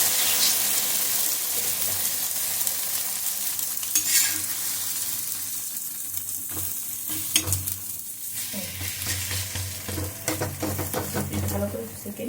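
A cheese omelette frying in a pan gives a steady, close, bright sizzle throughout, with occasional scraping and stirring sounds from a utensil against the pan.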